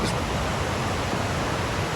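A stream of water rushes down past a shelter and tent site on the Appalachian Trail, producing a close, steady, even hiss of white noise that does not change, with no voices.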